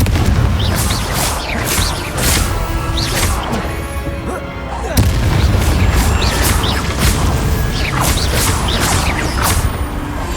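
Confringo blasting spells exploding during Hogwarts Legacy combat, with repeated booms and crashing impacts layered over dense, continuous battle noise throughout.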